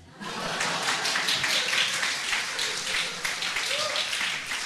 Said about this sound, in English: I'm waiting for clapping right now.